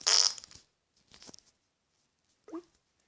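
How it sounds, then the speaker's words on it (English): A fart shaker toy lets out a short, noisy fart blast, then a weaker sputter and a brief squeak, each separated by silence and heard close. "Fart shaker."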